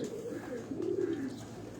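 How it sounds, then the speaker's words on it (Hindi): A Kamgar breed pigeon coos softly on a rooftop in a few low, rolling calls, faint against quiet background noise. "कमगर नस्ल का ये कबूतर"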